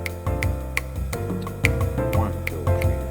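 A clave pattern of quarter notes and dotted quarters over a 7/4 groove, sharp wooden clicks at an uneven, lopsided spacing over a steady sustained accompaniment.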